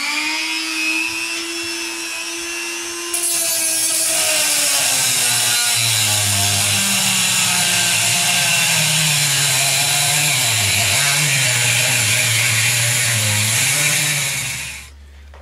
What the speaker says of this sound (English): I have cut down my bolts.